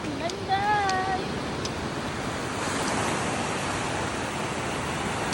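Sea waves rolling at San Fabian Beach, a steady broadband wash of surf with wind rumble across the microphone, a brief whistle-like sound early on.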